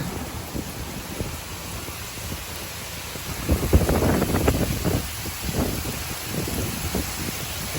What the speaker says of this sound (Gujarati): જબરજસ્ત વાવાઝોડું હે